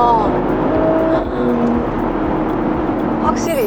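A Mercedes-Benz GLE53 AMG 4MATIC SUV's engine revs and roars loudly and steadily from inside the cabin while people talk over it.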